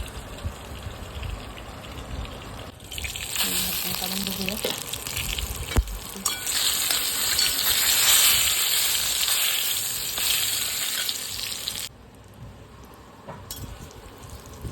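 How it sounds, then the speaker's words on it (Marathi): Eggplant frying in oil in a covered pan, giving a steady, loud sizzle that swells in the middle and then drops to a softer hiss near the end, with brief shifts as the lid or pan is moved. "तेलात फ्राय करून घ्यायचे आपल्याला आणि असंच राहू द्यायचं पाच मिनिटं"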